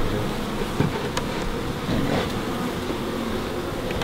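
Honey bees buzzing around an opened beehive, a dense continuous drone close by, steady throughout with a few louder passes.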